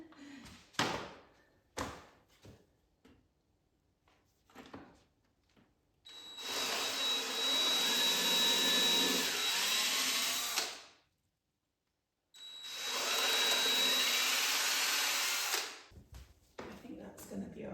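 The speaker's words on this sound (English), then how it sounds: "3rd time lucky, bigger drill bit." A power drill fitted with a bigger bit bores into stone in an old stone house renovation in Portugal, two long loud whining runs separated by a brief pause, with knocks and short bits of talk around them.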